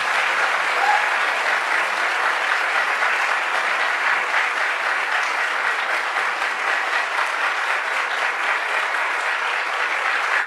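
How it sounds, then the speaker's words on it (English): Audience applause greets a speaker at a lecture: dense, steady clapping from a large crowd in a hall, sustained and evenly loud throughout with no talking over it. "Thank you all for that beautiful applause."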